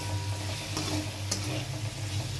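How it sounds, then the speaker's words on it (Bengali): Star fruit chutney with sugar being stirred in a pan, a steady low sizzle with soft scraping strokes throughout, close and continuous with no talking. "এবার চিনিটা দিয়ে একটু নাড়াচাড়া করে নেব।"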